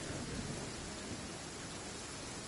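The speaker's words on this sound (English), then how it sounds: "We're just unlucky enough to have it raining." Steady, dense rain in the video game Genshin Impact hisses evenly throughout, a constant wash of noise with no voices or breaks.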